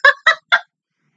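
Birds in an animated cartoon episode give three quick, gobbling, turkey-like calls in a short rhythmic burst, close and clear, followed by silence.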